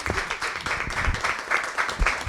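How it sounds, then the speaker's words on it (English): An audience claps in a brief burst of steady applause indoors, close and moderately loud. "Let's give a round of applause for Ingrid if we can."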